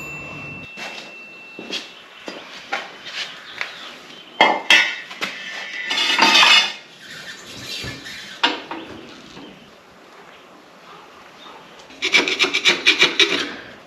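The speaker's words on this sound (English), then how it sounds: "give this surface a scraping. Get any of that old seal off of there." Scraper rasping old pinion seal residue, dirt and rust off a metal sealing surface on a rear end, in a series of short strokes that build to a louder, rapid burst of scraping near the end.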